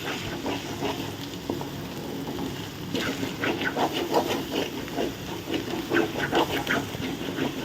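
Eggs fry in a pan on a stove at full flame, cooking for idiyappam kothu, giving a continuous hiss and sizzle with crackling bursts and occasional scraping, moderately loud throughout.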